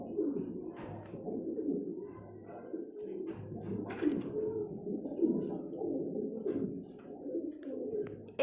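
Pigeons, including a Danish breed, coo in low, soft, repeating murmurs that overlap continuously at close range, with faint chirps and scattered higher calls above them.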